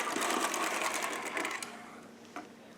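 A Sister toy knitting machine carriage sweeps across the needle bed while making latched ribbing with green yarn, a steady close whirring rattle that fades near the end, followed by a single small click.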